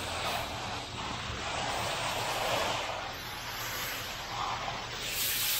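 A pressure washer sprays house wash onto a house's siding and windows, a steady close broadband hiss that runs unbroken through the whole stretch, with no talk over it.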